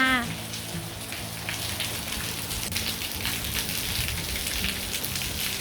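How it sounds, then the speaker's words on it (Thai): Steady rain patters on surfaces in a dense, even hiss with scattered drips, continuous throughout. "ฝนตก"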